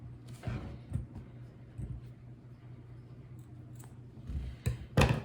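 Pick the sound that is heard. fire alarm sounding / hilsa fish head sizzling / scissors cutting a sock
scissors cutting a sock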